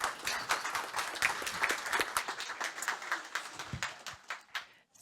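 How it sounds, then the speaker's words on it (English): Audience applause at the 2024 NATO Youth Summit in Stockholm, a dense run of hand clapping that holds steady for several seconds, then thins and tapers off near the end. "A round of applause,"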